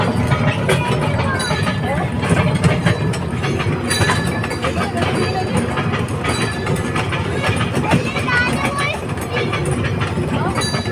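A small theme park train at an agricultural theme park runs steadily with a continuous rumble and light mechanical clatter, while people talk over it throughout.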